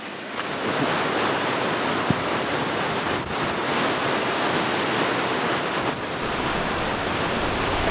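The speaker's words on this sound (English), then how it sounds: "is our last Icelandic waterfall." A powerful Icelandic waterfall roars in a continuous broadband rush, steady and loud throughout, with no talking.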